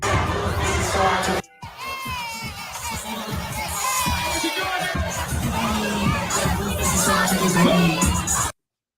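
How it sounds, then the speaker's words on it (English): A large crowd sings along loudly to a song at a live show, a dense roar of many voices with shouts and cheers mixed in, continuous after a brief cut near the start. "The crowd is singing her song."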